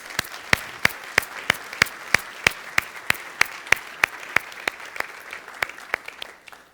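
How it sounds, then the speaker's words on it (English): An audience applauds a college tennis team at a campus address, though the sound comes through as evenly spaced, sharp single claps in a steady rhythm rather than a dense crowd, close and fairly loud. "They deserve a round of applause."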